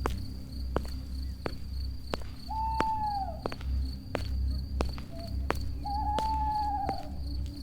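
Steady cricket chirring fills a quiet village night, with a few sharp clicks and two short whistled calls rising over the constant buzz.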